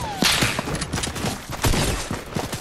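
Rapid gunfire in Fortnite Chapter 2, a series of close, sharp shots fired in quick succession with a burst near the start and more toward the end.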